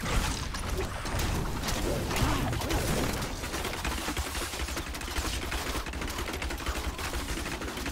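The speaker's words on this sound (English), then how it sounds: "I like the fact that the enemies explode and then other enemies come out of them." Explosions of enemies in the action game Diablo 3: Reaper of Souls, a dense, continuous barrage of crackling bursts and impacts that stays loud and busy throughout with no pauses.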